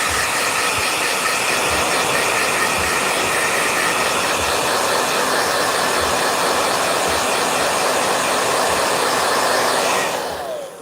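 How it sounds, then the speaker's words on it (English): A blow dryer runs with a loud, steady airy roar for about ten seconds, joined by a faint regular ticking, before cutting off abruptly at the end. "Blow dryer."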